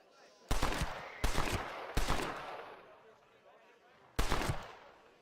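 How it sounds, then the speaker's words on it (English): Four sharp gunshots fired at a thrown hat in the Red Dead Redemption video game, loud and close, each with a short decaying tail, the first three in quick succession and the last after a longer pause. "Get ready to shoot that hat."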